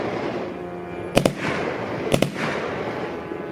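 Air defense guns fire over St. Petersburg in two separate bursts, each a quick pair of sharp blasts from a moderate distance, with a steady ambient hiss between them.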